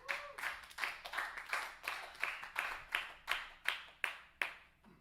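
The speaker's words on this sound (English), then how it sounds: "give a big round of applause for the great Ronan Delisle" A small audience gives a round of applause for guitarist Ronan Delisle at the close of a live set, sparse distinct claps settling into a steady rhythm, fairly quiet and thinning toward the end.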